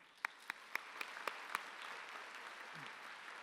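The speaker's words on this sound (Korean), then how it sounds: "우리 박수할까요?" Church congregation applause at a summer retreat service, fairly faint and distant, opening with a few evenly spaced louder claps before settling into softer scattered clapping that tapers off.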